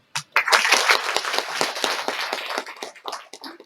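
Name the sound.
audience applauding at a college felicitation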